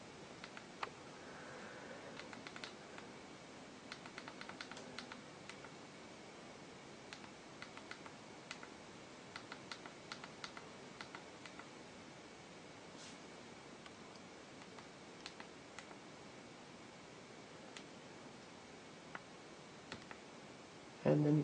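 Quiet, irregular clicks of the small keyboard buttons on a 4th-generation Amazon Kindle e-reader being pressed one after another, close by, over a soft hiss.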